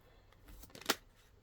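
Tarot cards shuffled by hand, a few soft riffling rustles building to one brief crisp snap of cards near the end, close and quiet with no talk.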